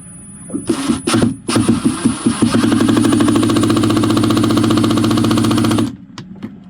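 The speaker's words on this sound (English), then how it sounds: "So I have my impact on low power, and we'll just give a few revs on it." An impact driver set to low power whirs in a few short bursts aboard a sailboat, then runs steadily for about three seconds before stopping, loud and close.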